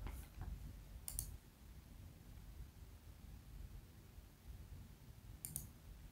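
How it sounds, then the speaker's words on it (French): A computer mouse clicks faintly a few times during spreadsheet work, with a quick double click near the start and another near the end over a low steady background hiss. "Je clique sur Données."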